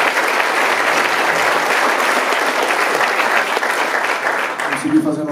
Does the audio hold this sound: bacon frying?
no